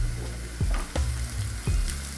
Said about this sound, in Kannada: ಈಗ ಕರಿಬೇವು ಹಾಕೋತೀನಿ ರೀ. ಹಾಗೆ ಮತ್ತೀಗ ಪುದೀನಾನು ಹಾಕೋತೀನಿ ರೀ.